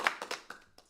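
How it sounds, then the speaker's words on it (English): A few quick hand claps, about five sharp separate slaps spaced unevenly, sound faint and close in a small room with no crowd. "We will definitely give some applause for that"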